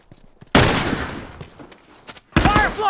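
Rifle gunfire in a competitive multiplayer shooter: a loud, close shot bursts out with a trailing echo, followed by a quieter stretch and a second sharp shot near the end.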